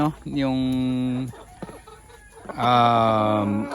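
Two long, drawn-out clucking calls, close by and loud, separated by a short quieter pause with faint background noise.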